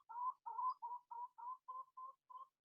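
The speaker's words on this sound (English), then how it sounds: "You will hear around me the sound of birds." A single bird outdoors repeats a clear, even call eight times in a steady rhythm, close and distinct against silence.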